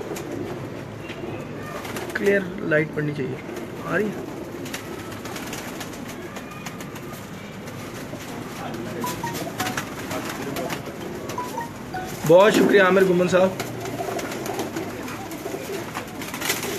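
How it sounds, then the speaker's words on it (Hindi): Pigeons of the Salara breed cooing in a loft, soft intermittent coos near and far under someone talking, with one louder fluttery burst toward the end. "ये भी सलारे कबूतरों में से है"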